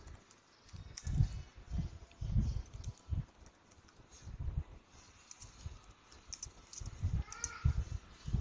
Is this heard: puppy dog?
no